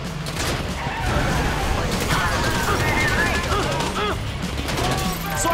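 A shootout in the video game GTA 5 during a heist, with dense, rapid bursts of gunfire and crashing impacts under loud game voices talking throughout.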